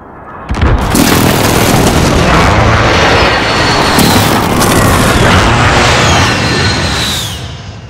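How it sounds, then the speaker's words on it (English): Precision airstrike explosions in Call of Duty: Modern Warfare arrive as a sudden loud boom followed by several seconds of sustained roaring blasts and rumble, close and overwhelming. "Allied precision airstrike incoming"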